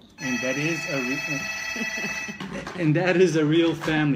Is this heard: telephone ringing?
yes